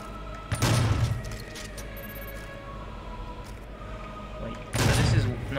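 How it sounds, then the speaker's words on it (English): Two heavy booming blasts from the super shotgun in DOOM, spaced several seconds apart over a steady low game ambience, each loud and close. "Fire twice with the super shotgun before you have to reload"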